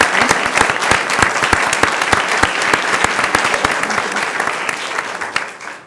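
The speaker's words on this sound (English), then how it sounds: "let's give her a round of applause" An audience at a school board meeting breaks into a round of applause. The clapping is loud and brisk, with sharp individual claps throughout, and it tapers off in the final moment.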